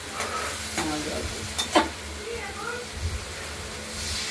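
Spices sautéing for a katla fish and potato curry, a soft sizzle under a few scattered stirring clinks and scrapes, with some faint voice-like sounds in the background.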